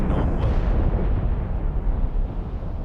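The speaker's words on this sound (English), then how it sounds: "Cannon fire. Deep within the fog." Deep cannon fire booming through fog in the Assassin's Creed Rogue video game, a loud, dense low rumble that fills the whole stretch and slowly eases off, with no talking over it.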